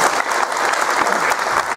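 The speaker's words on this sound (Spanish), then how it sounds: "Aplausos para todos y muchas gracias." A short, dense burst of audience clapping at a tribute ceremony, loud and even for under two seconds before cutting off.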